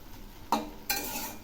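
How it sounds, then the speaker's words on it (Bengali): Jute leaves fried with onion, garlic and green chillies being stirred in a pan: a quiet sizzle broken by two sharp scraping strokes of a utensil against the pan, each followed by louder frying. "আবারও একটু নেড়ে দিচ্ছি।"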